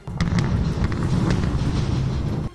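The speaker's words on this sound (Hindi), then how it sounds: "सबसे पहले स्टील प्लांट में एक ब्लास्ट हुआ" Heavy explosions strike the Azovstal steel plant in Mariupol, a dense rumbling barrage of blasts and crackling bursts that roars loud and steady for about two and a half seconds, then cuts off.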